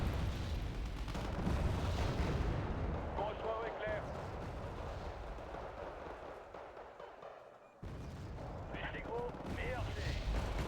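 Artillery fire in a military video game with a Rafale jet, heard as dense overlapping booms and gunfire rumbling continuously under excited commentary, with a short dropout near the end before the barrage resumes.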